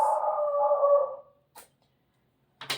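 A single dog howls in a long, wavering, steady cry lasting about a second, close and clear. It then falls silent, with two brief, faint noises following after a pause.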